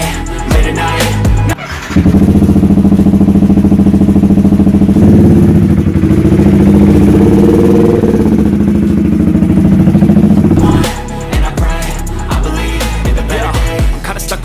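Yamaha R15 v3 motorcycle engine loud and close, starting with clatter and then settling into a steady idle with a revving rise midway before it drops back and fades into road noise.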